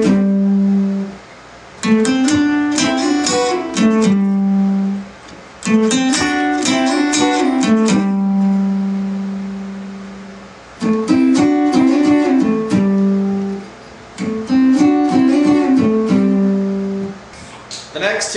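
Lead guitar plays double stops, two notes sounded together, in four separate phrases with short gaps between them, each phrase a run of quick picked notes ending on a sustained pair. There is no talk.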